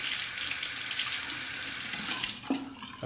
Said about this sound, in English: Rinse off.